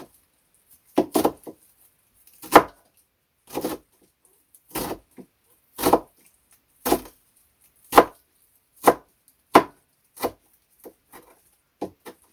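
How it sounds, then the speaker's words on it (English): Folded parsley leaves chopped finely with a knife on a board: a run of close, crisp chopping bursts at a loose, uneven rhythm with short silences between. "the parsley, I got the leaves away from the stem, so I'm just gonna like fold it up and chop finely"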